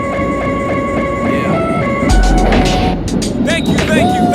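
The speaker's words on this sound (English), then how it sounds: "the next Wonderland train is now approaching" An MBTA Wonderland-bound subway train pulls into a station, a rising rumble and rail screech swelling under an ongoing platform announcement, with squealing brakes as it arrives.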